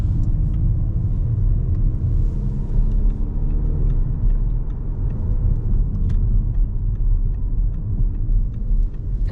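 2025 Audi A5 Avant TDI MHEV Plus Quattro driving through corners at night, heard from inside as a steady deep engine and road rumble with faint ticking, no voices.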